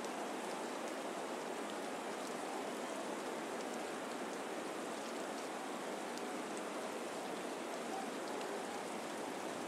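Steady rain falls throughout near Lake Michigan, a dense, even hiss of drops on a surface with no pauses and no voices, moderately quiet and constant.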